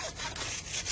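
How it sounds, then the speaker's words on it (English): A hand saw cuts through a bison bone in quick rasping strokes, close and moderately loud in under a second of grinding friction. "By sawing apart one of its bones, they can examine the condition of the marrow."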